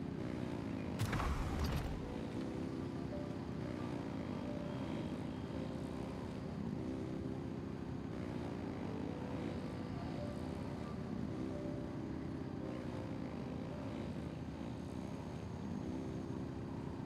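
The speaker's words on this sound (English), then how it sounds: "Rev the engines." Engines revving in the Genshin Impact video game: a steady droning, propeller-like engine hum that holds for the full stretch after a sharp burst at the start, with no voices.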